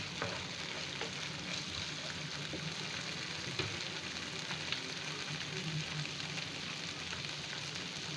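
Spice paste frying in oil in a pan for koi fish curry, a steady soft sizzle and crackle throughout, fairly quiet and close, with no talk.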